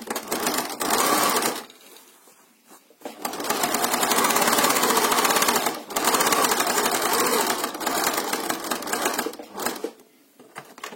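A sewing machine stitches a fabric face mask with elastic, running in two long loud bursts of rapid mechanical whirring separated by short pauses, alone without talk.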